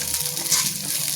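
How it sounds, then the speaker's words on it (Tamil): Onions sautéing in hot ghee in a pan for soya chunk gravy, a steady close hiss of frying with soft crackles, alone with no talk. "இப்போ இன்னொரு பேனில் நெய் ஊற்றி சூடானோன்னா வெங்காயம்"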